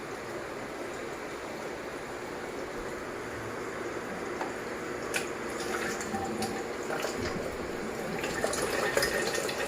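Water pours steadily into an SD 501 machine from a motor-driven feed, a continuous rushing fill sound with occasional splashes growing slightly louder toward the end, no speech.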